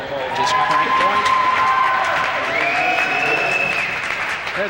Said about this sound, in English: There the crowd getting on the side of Tony Bevelock after that nice shot.